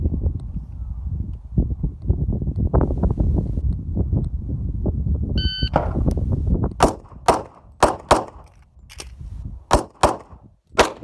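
Pistol shots at a shooting practice range: after several seconds of low wind rumble, about eight sharp, loud cracks ring out in an uneven rhythm, each clearly separated.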